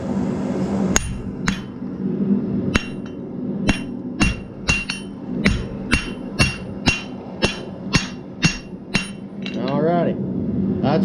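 A blacksmith's hammer strikes hot steel on an anvil while forging a bottle opener. About sixteen sharp, ringing blows land in a steady rhythm over a background roar, such as a forge, and are heard close and loud with no talk.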